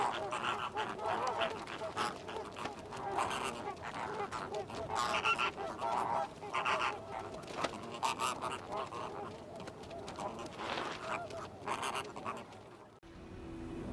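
A large flock of flamingos in New Caledonia calling nonstop, a dense wash of overlapping goose-like honks that stays loud and busy throughout.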